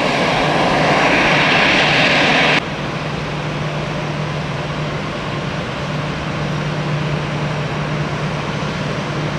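Older Airbus A320 airliner engines at Tampa International Airport produce a loud, steady jet roar with a low drone, dropping slightly in intensity partway through and then continuing evenly without voices.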